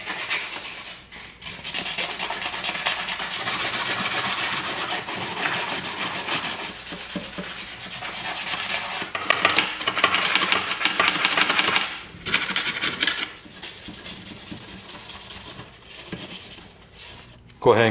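Someone scrubs the rear wheel parts of a Honda lawnmower clean, producing a continuous, close, rasping brush sound with brief pauses and shifts in intensity.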